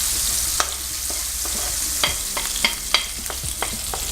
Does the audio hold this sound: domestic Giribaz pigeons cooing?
no